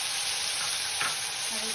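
Ground spice paste for paneer hits a hot pan and sizzles in a steady, even hiss, close and constant throughout the short moment.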